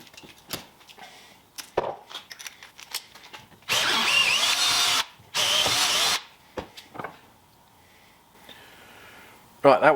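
A power drill with a 9.5mm bit whines in two sustained bursts about two seconds each while drilling through metal, loud and close, surrounded by clicks and handling noises.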